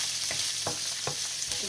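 Garlic, capsicum and onion sauté in a hot pan with a continuous nearby sizzle, broken by several soft scraping stirs at a slow, uneven rhythm.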